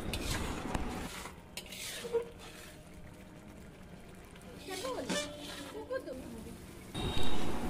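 Spice paste for a large batch of prawn malai curry, cooked for about 150 people, is stirred and fried in a big pot, giving repeated scraping and clanking strokes under steady kitchen noise, with voices in the background.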